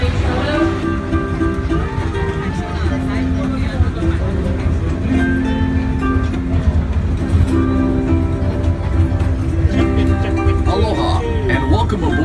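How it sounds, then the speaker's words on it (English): The Pineapple Express tour train rolls through a working pineapple plantation with a continuous rumble and clatter. A recorded announcer talks over it the whole time. "This 2-mile, 22-minute train ride will take you through a working plantation of pineapple and other crops"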